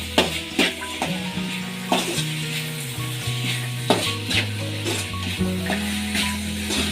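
Vegetable fried rice being stirred and tossed in a hot frying pan, sizzling continuously while a spatula scrapes and clanks against the metal in irregular strokes, close and fairly loud, with no talk.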